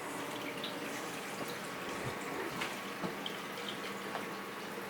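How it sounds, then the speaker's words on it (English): Water runs steadily from a sink tap in a home brewing space, a continuous hissing splash with occasional small drips and clinks. "There's so much value in having running water in a sink when you're brewing beer."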